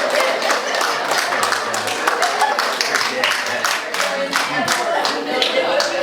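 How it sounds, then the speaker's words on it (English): An audience at a live comedy night claps. The individual hand claps are crisp and close, forming a steady, slightly uneven patter that continues for several seconds. "Clap your hands."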